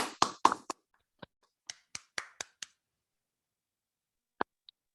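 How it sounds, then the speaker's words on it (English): A sparse round of applause over an online conference call after an academic talk: a short burst of thin, clipped claps, then a few isolated claps and taps trailing off into silence. "We can unmute our microphones and give a round of applause to Anaëlle."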